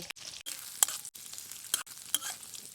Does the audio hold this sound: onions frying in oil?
yes